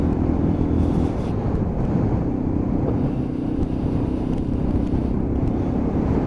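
A Lexmoto Assault motorcycle rides along in fifth gear at about 4,000 RPM, with a steady engine drone heavily masked by loud, constant wind rush on the microphone.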